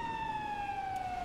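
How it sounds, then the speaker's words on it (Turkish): An ambulance siren arriving in the video game GTA 5 holds a loud, steady wailing tone that slowly slides downward, over a faint background rumble of traffic. "Ambulans öbür taraftan geldi ya"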